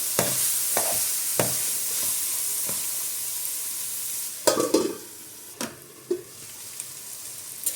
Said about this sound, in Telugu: ఇవి కొంచెం ఆయిల్లో మగ్గనిద్దాం